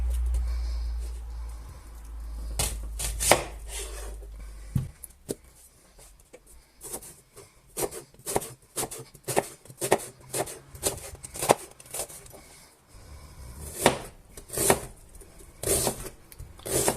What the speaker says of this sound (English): Now I'm going to chop some onion up.